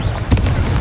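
Confringo fire spell from Hogwarts Legacy exploding in a single short, close burst with a deep thump and crackling tail.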